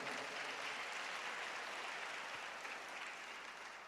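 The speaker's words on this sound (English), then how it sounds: "Let's give a good clap to all the men." A church congregation claps for the men at a worship service, a broad, steady wash of many hands heard from a distance, evenly sustained and slowly fading at the end.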